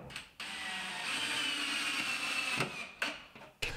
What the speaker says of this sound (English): I'm drilling 3-inch screws through the frame and into the wall studs